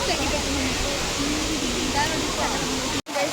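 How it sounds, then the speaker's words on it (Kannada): A waterfall roars in a loud, steady wash of noise at a crowded family outing spot, with people talking faintly beneath it and a brief dropout just after three seconds. "ಈ ನೀರಿನ ಸೌಂಡ್ಗೆ ಏನ್ ಮಾತಾಡ್ತಿರೋದು ಕೇಳಿಸ್ತಾ ಇಲ್ಲ."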